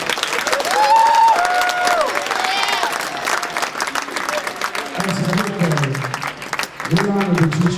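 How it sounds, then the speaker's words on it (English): An audience at a public talk in Thorp, Wisconsin breaks into steady, loud clapping and cheering that fills the room, with some voices and crowd noise mixed in as the applause continues. "Y'all clap for him."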